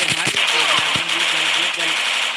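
Rapid bursts of gunfire from the Free Fire Max battle royale game crackle in quick volleys, loud and close, with a voice talking over the shots.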